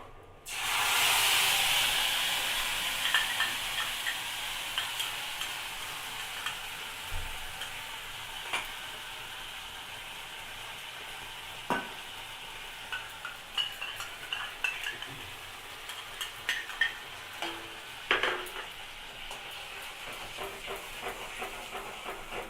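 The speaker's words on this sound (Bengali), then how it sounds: "এবারে যে আমরা যে মশলার পেস্টটা বানানো ছিল সেই মশলার পেস্টটা এর মধ্যে দিয়ে দেবো" Spice paste hits hot oil in a pan with a loud burst of sizzling, then settles into a steady fry punctuated by spatula scrapes and taps, cooked for a pointed gourd and potato curry.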